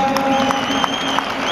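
Applause for boxer Rubén García after a Spanish welterweight championship bout, a steady dense clapping from an arena crowd that holds at an even level throughout with a few sharper claps popping out.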